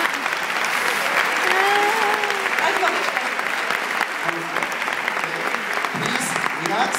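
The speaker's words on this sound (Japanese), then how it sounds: "ここで拍手をお願いします。" An audience applauds at a sword performance, with dense, lively clapping throughout and voices talking underneath.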